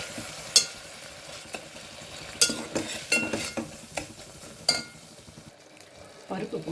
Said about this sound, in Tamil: இது வதக்கிட்டு பருப்பு போட்டுடுங்க